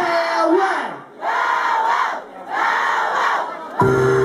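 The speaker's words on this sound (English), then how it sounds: "I need everybody in the crowd to repeat after me." Concert crowd at the Melkweg chanting the artist's name in unison, three loud rhythmic shouted bursts separated by short gaps, with a sharp amplified sound cutting in at the end.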